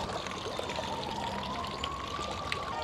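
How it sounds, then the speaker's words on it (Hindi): A fountain in Seville splashes without pause, a dense, even wash of falling and pouring water heard close up with no break or talk. "आगे भी फाउंटेन है।"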